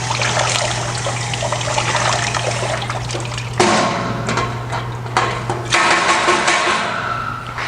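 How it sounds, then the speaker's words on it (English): Water from a hose sprays and trickles over a torch-heated aluminum bonnet panel for a Jaguar E-Type, a steady hiss with a low hum beneath and a few brief metallic knocks, close and fairly loud. "we'll cool that down with a hose and see if we did anything"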